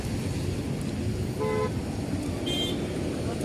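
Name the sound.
road traffic with car horns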